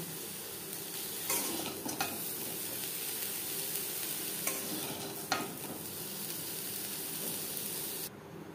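Panch phoron and bay leaf hitting hot oil in a kadai, a steady close sizzle with a few sharp spatters and stirring clinks, alone without voices.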